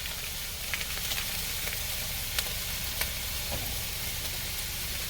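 Ground turkey hits a pan of fragrant onions and peppers for taco lasagna, with a constant close sizzle and light crackling pops scattered throughout.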